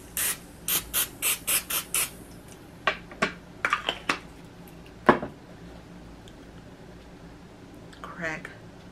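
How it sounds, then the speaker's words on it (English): A series of short, sharp cooking spray bursts hiss in quick succession onto a waffle maker, followed by a few scattered clicks and clatters. "Okay, so we're gonna spray it."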